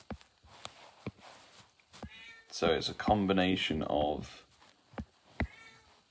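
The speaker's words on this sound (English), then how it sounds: "it's my very loud cat." A very loud female cat in heat yowls in a long, strained caterwaul at close range for a couple of seconds, with soft clicks and brief speech around it.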